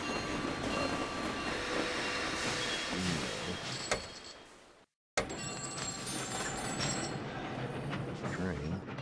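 Locomotive rumble from the Sid Meier's Railroads! train simulation game, a dense, steady running roar that cuts out briefly midway, then resumes at the same level.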